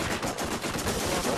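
Rapid automatic gunfire in Borderlands, a continuous close rattling burst of evenly spaced shots, loud and unbroken across the short span.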